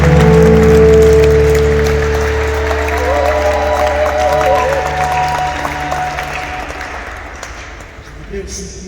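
Sustained applause from a church congregation at a funeral fills the space, loud at first and gradually fading, with a low musical drone underneath.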